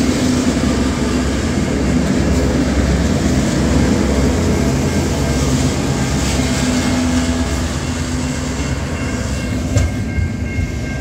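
An intermodal freight train in Australia rolls past close by, a loud, steady rumble of wagons with rhythmic wheel clatter that holds for the whole stretch.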